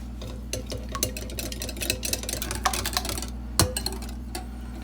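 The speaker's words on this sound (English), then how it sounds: "I'm just going to whisk this together" Eggs with pepper and salt whisked in a bowl, giving rapid close clicking taps against the bowl in a busy, uneven rhythm over a low steady hum.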